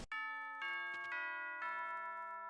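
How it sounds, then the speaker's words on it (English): A school bell chime rings in the video game Pokémon Ultra Sun, a clear, close sequence of three or four tonal notes that ring on and sustain without talk. "Oh, that's the school bell."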